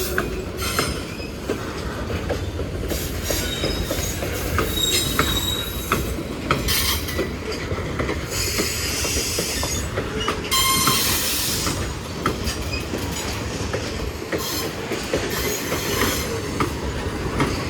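A Norfolk Southern eastbound freight train with gondola cars rolls past at close range, a loud continuous rumble of wheels on rail with metallic squeals and rhythmic clatter throughout.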